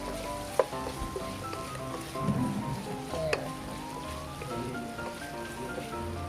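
Butter sizzles in a pan as chicken afritada gets underway, a steady moderate crackle with scattered clinks and stirring sounds, and faint background tones throughout.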